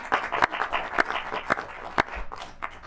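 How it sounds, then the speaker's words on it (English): Scattered hand claps from a small audience in a city council chamber during a session, coming in loose, uneven bursts with faint murmuring underneath. "applause."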